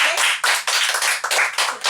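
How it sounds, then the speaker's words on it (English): A group at the close of a youth radio show claps in a quick, close burst of sharp, uneven hand claps lasting about two seconds, with no talking. "And one last round of applause, and we are the bomb."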